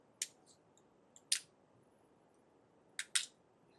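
A seam ripper cutting thread along a fabric seam gives a few sharp, brief snips and ticks in small clusters, close and quiet against near silence.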